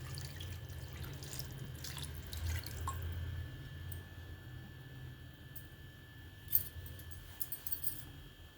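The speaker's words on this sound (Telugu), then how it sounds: "మనకి ఎంత పులుసు అవసరమో అంత వాటర్ పోసుకుందాం." Water is poured into a tamarind fish curry with a quiet trickle and a few drips, accompanied by faint metallic clinks toward the end, heard close and soft.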